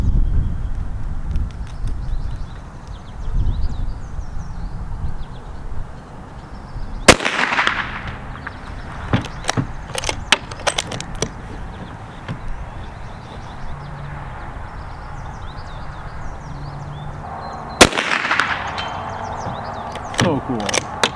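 A .223 rifle firing subsonic 55-grain bullets at a 185-yard target gives two sharp, loud reports about eleven seconds apart, each followed by a brief echo. People talk in between over low background noise.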